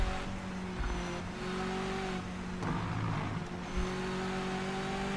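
A modern Mazda MX-5 race car in Project Motor Racing hums along at a steady engine drone, with a few brief pitch shifts suggesting gear changes and no talking over it.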